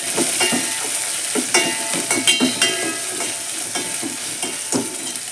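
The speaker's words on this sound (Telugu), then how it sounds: "ఇందులో ఒక ఉల్లిపాయ కదా పెద్ద సైజు ఒకటి తీసుకున్నాను మంచిగా కలుపుకున్నాం" A single large chopped onion is stirred in a hot pan, with repeated close scraping strokes in an uneven rhythm over a continuous frying sizzle, loud and without voices.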